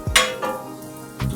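An egg and onion dosa cooks with oil on a hot pan, giving a few short scraping and clinking touches over a low sizzle, close and brief.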